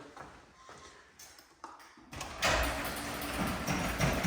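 A residential garage door is tried and opened: a few faint clicks and knocks, then a sharper thud and a steady, fairly quiet rolling rumble as the door moves.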